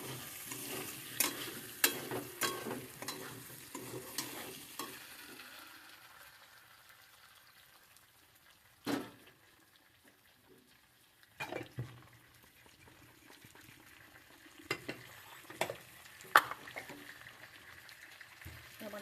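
Fried potatoes stir-fried with spices in oil for a vegetarian soybean curry: a burst of spatula scrapes and clatters early, then a soft sizzle with occasional sharp stirring knocks, close by.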